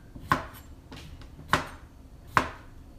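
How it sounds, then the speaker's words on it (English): A knife chops cucumber on a kitchen board in three crisp, evenly spaced strikes, close and clear over a quiet room with no talk. "I'm gonna cut up some cucumber"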